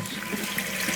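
Water rushing steadily into a toilet tank as the supply is turned back on, a constant close hiss of filling water with no pauses.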